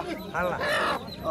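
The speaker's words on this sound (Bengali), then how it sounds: "আর এই দুটো তো দেশি মোরগ না?" Several short bird calls from native roosters at a rural market, including squawking, clucking-like bursts, mix with voices talking nearby.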